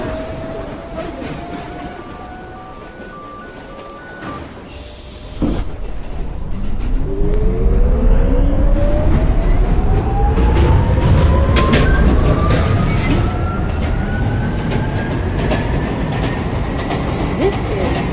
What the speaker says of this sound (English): This is an airport-bound Y express train.